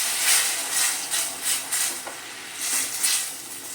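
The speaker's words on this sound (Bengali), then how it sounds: "কিছুক্ষণ আমি নেড়ে নেব।" Spice masala for a tilapia curry hisses and sizzles in a pan with a little water while being stirred, with soft scrapes and steady frying noise throughout.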